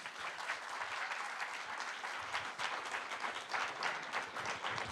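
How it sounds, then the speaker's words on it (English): A crowd applauding a panel discussion, a dense, steady wash of many hands clapping at once, sustained without a break and heard from within the room. "Could you give them a big round of applause, please?"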